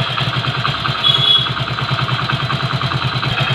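Hero Splendor motorcycle engine idling just after starting, a close, steady rhythmic putter with even pulses throughout, running alone without voices.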